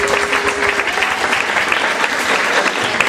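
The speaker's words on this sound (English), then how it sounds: "many rounds of applauses for her" Loud, sustained applause from a crowd at a community labor council meeting, a dense steady wash of clapping hands with a faint brief tone early on and no speech.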